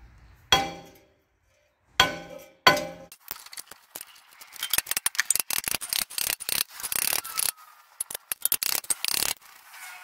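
A tool taps on a seized rear brake part of a Dodge Journey after WD-40 has been applied, making sharp metallic knocks, a few isolated strikes first, then a rapid burst of clinking taps.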